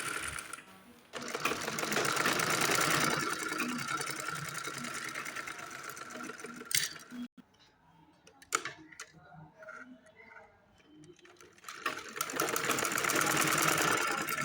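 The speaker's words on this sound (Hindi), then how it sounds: "दोबारा से सिलाई लगा रहे पक्की कर रहे सिलाई को।" A sewing machine stitches pajama seams with a close, buzzing whir that runs steadily, pauses for a few seconds broken by clicks and handling noises, then whirs back up to full speed.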